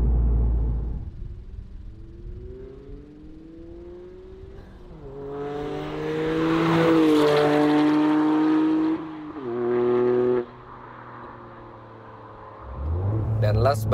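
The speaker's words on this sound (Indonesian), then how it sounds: "Nah sekarang kita dengarkan kalau misalnya mobil ini passing by." A GR Yaris fitted with an aftermarket Remus exhaust drives past, its engine note rising and swelling loudly as it nears, then easing off and dropping away, with a brief burst of revs near the end.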